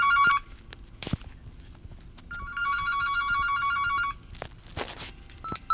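A telephone rings in the horror game The Baby in Yellow: a bright, buzzing bell rings in two separate bursts, with soft footsteps and small clicks in between.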